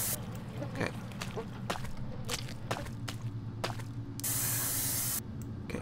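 A spray can in the horror video game Erie lets out one hissing burst of about a second, among scattered soft footsteps and clicks, with no talking.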